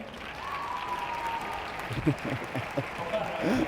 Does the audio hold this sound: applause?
yes